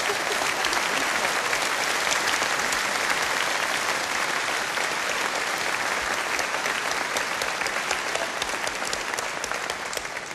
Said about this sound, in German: ein Wastel für dich und einen Riesenapplaus